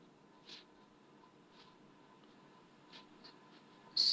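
Pen strokes writing a math problem on paper, faint and intermittent with short scratchy marks scattered across the moment and a louder scrape at the end, without talk.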